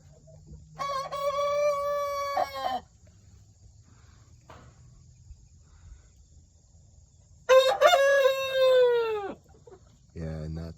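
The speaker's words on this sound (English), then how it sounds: "both roosters are crowing" Two roosters crow one after another in a farmyard: a loud, near crow early on, a long quiet stretch with faint rain-like background, then a second strong crow, with another brief call starting at the end.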